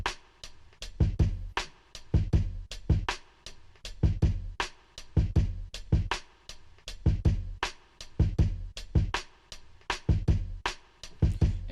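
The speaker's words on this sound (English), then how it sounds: "just with the drums, we're just gonna try the drums right now" A hip-hop drum loop of punchy kicks and sharp snares or claps repeats in a steady, even groove, loud and alone with no voices over it.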